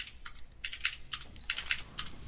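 Rapid clicks from someone typing on a computer keyboard, close and crisp, coming in quick irregular bursts with no talking.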